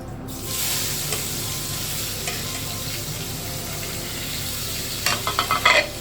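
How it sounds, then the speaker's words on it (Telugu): Onions sizzle steadily in hot oil in a frying pan, a continuous crackling hiss throughout, with a few louder scraping stirs near the end and no talking. "ఉల్లిగడ్డ మంచిగా ఇట్లా ఫ్రై అయింది"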